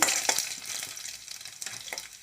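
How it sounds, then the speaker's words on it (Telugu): Garlic and tempering spices sizzle and crackle in hot oil in a pan, with a few sharp stirring scrapes, close and fairly loud, no talking. "తెల్లుల్లి పోపు దినుసులు వేసి బాగా వేయించుకొని"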